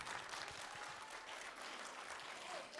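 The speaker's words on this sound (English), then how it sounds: "can we give a big round of applause to Mr. Nick" Audience at a school theatre festival applauding, a soft, distant, even patter of many hands clapping with no talking.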